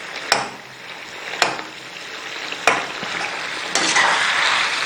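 Tomatoes frying for chicken karahi, with a steady broadband sizzle and four sharp clacks of a spoon pressing and stirring them in the pan, the last stretch growing a little louder; no talking.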